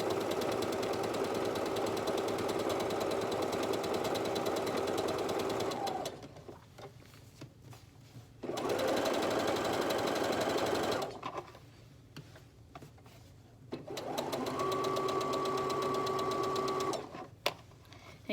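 An electric sewing machine stitches a seam across a romper in three bursts, each a loud, steady motor hum with fast needle clatter, separated by brief quiet pauses.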